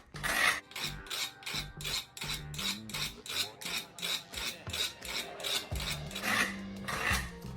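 Serrated Cold Steel knife edge sharpened on a Sharpmaker's ceramic rod corners, a steady back-and-forth rasping of steel on ceramic, about a dozen close, even strokes in a quick regular rhythm with no talking.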